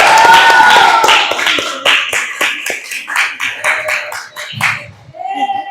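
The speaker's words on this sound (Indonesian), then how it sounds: "Tepuk tangan." A group claps together in a classroom-style gathering: a series of crisp, evenly spaced bursts of hand claps in a rhythmic pattern, fairly close and loud, tapering off near the end.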